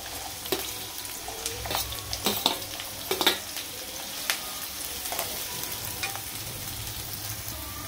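Sliced onion and green chilies sizzling in hot oil in a pan for a chicken and drumstick curry, a steady fry with scattered stir and scrape clicks, moderately loud and close with no talking.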